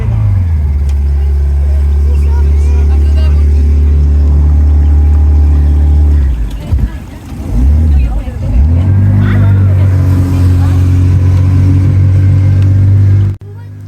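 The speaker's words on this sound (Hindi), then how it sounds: "सुना क्या ज़बरदस्त साउंड है ये बोट की।" A motorboat engine on a flamingo boat safari across Thane Creek in Mumbai drones loud and close, a steady deep throb that dips briefly midway before resuming, with voices murmuring in the background.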